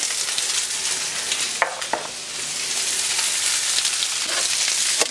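Asparagus and mushrooms seasoned with salt and pepper fry in a pan, giving a steady, loud, close sizzle with a few sharp crackles and stirring scrapes, no voices.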